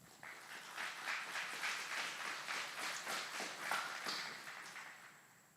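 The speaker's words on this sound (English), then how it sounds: "Please join us in giving a round of applause to these outstanding drill sergeants and instructors." An audience at a 128th Aviation Brigade graduation at Fort Eustis applauds drill sergeants and instructors, a steady, moderately distant wash of many hands clapping for about five seconds with no talking.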